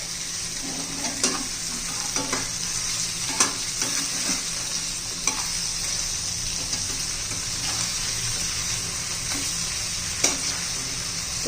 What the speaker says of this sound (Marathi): तर हे पहा, आपण आता सर्व फिश उलटून घेऊया